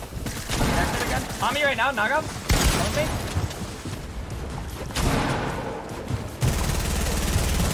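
Rapid bursts of gunfire and booming blasts in the Fortnite video game, clattering shots mixed with explosions while players talk excitedly over the action.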